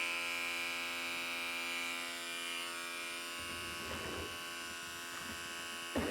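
Electric hair clippers buzz steadily through a basic men's haircut, their constant drone slightly muffled as they press against the head. Brief soft rustles of cutting break in near the end.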